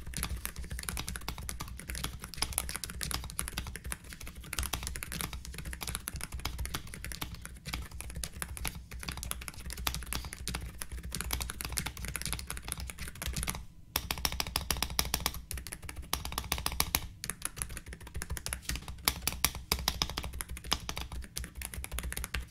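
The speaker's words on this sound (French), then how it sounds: "C'est le clavier le plus silencieux que je n'ai jamais entendu." Steady, soft typing on an Epomaker RT100 quiet mechanical keyboard, rapid muted key taps continuing throughout, over a constant low hum, with brief pauses.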